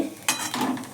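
Peanuts tumble into a pan and are stirred, making a brief rattling clatter followed by a short scraping stir with a light sizzle, all within about a second.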